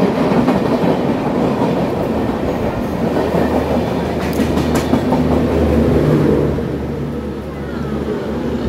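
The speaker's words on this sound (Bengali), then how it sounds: "এখানে দেখো ট্রেনও এসে গেল।" A train pulls into a station with a loud rumbling roll and clattering wheels on the rails, a steady heavy din that eases slightly near the end.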